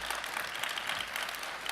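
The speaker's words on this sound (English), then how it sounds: "Another round of applause for him, please." A conference audience gives a short, dense burst of applause for a speaker, a continuous bright wash of many hands clapping at once, fairly loud, with no voices over it.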